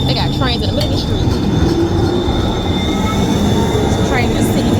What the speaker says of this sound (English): They got trains in the middle of the street.